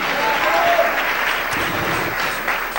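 A church congregation applauding during a Spanish-language sermon gives a loud, dense burst of clapping that stays strong throughout, with faint vocal noise mixed into the crowd.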